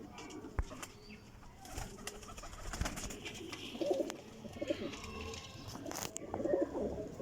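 Champion flying pigeons coo in repeated soft, throaty bursts, with occasional wing flaps and chirps over a dull outdoor background, near and moderately loud.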